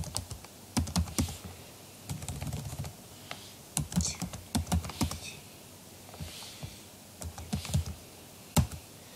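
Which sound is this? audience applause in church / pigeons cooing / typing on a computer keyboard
typing on a computer keyboard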